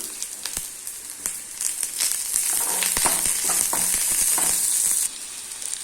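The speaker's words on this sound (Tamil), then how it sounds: "இதில் பெரிய பூண்டு 5 பல் இதை நீளமாக கட் பண்ணியிருக்கேன், இதையும் போட்டு வதக்கிடலாம்" Five long-cut cloves of garlic fry with softened onions in a pan for a broad bean kootu, a steady close sizzle broken by repeated scraping stir strokes, then easing off at the end.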